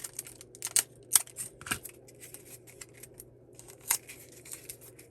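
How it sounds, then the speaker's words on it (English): Scissors snip through paper while making a French knitter, giving a few sharp, close cuts spaced irregularly over a quiet background, with light rustling between them. "you can go ahead and cut it in half again"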